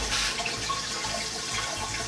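A Tushy bidet, newly installed and fed from a hot water supply, sprays steadily in a bathroom, making a continuous close hiss of running water that stays even throughout with no talking.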